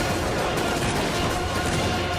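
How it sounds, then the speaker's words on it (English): Staged gunfire rattles through a town during a prank, a dense, continuous burst of shots and crashing noise filling the whole stretch, loud and busy with no clear gaps. "staged fights and gunfire breaking out in the town"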